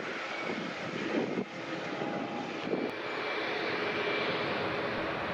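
A jet airplane takes off from runway 26 left at Vancouver airport with a steady, broad engine roar that holds loud and unbroken throughout.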